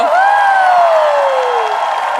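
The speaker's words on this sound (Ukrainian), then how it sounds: "Ваші оплески." A crowd applauds and cheers at a televised show after a singer's operatic performance, a continuous wash of clapping with a sustained voice or tone gliding downward across it.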